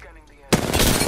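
Sudden loud burst of rapid automatic gunfire in a shooter video game, kicking in after a brief quieter moment and continuing densely to the end.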